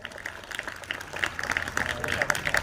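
A crowd claps to welcome members of the Mahamanav Youth Foundation at a Constitution Day speech gathering in Nandura. The applause builds from scattered claps into a fuller, steady round that grows louder toward the end.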